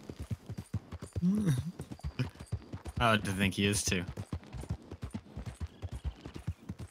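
Horse hooves clip-clopping in the video game Red Dead Online, a steady rhythmic plodding under frequent talking and laughter from players.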